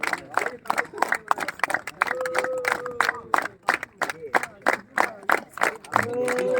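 An audience at a games and sports kickoff event claps in an irregular, rhythmic burst of hand claps, with a voice speaking loudly over the applause.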